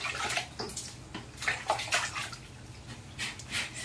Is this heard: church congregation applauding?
no